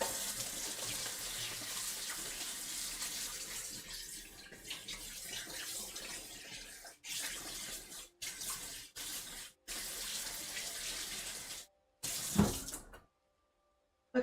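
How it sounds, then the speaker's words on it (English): Tap water running steadily into a sink while hands are washed, a soft, continuous splashing hiss broken by a few short stops near the end before the flow cuts off. "Gotta wash my hands now."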